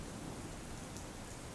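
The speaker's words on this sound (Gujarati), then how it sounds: "ભાવનગરમાં પણ ધોધમાર વરસાદ વરસતા તમામ રોડ રસ્તા પાણીમાં ગરકાવ થયા છે" Heavy rain pouring in Bhavnagar during a downpour, a dense, constant broadband hiss of drops hitting surfaces with no break.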